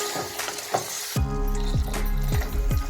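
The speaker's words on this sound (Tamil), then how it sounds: "நான் பீஃப் போட்டு நல்லா மிக்ஸ் பண்ணிடுறேன்" Beef pieces tossed into a frying masala in a pan sizzle loudly, with a rhythmic series of scraping stirs and spatula knocks repeating steadily after a brief quieter start.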